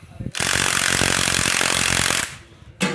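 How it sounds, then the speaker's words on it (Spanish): A pneumatic impact wrench hammers steadily for about two seconds, loud and close, while tightening a bolt on the front suspension of a Suzuki Viva R motorcycle, then stops briefly before a short second burst. "metemos el cuadrante, la herramienta, la pistola en apretar"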